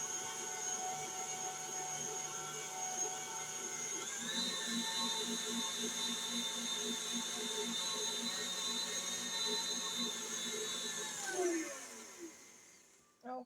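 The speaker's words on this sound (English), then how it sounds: "we're going to mix that again" Electric mixer beating sour cream coffee cake batter in a home kitchen, a steady motor whine that rises in pitch around four seconds, holds, then winds down and stops near the end; no talking.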